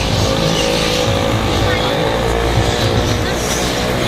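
The driver's car on a road trip in Gujarat, India, gives a loud, steady rumble of engine and road noise that continues unbroken.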